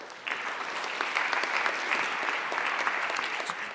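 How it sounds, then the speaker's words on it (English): An audience claps for a speaker walking onstage at a schools debate, with dense, steady applause starting suddenly and continuing evenly at moderate volume. "Please give a round of applause and welcome Phil Worms from Iomart on stage"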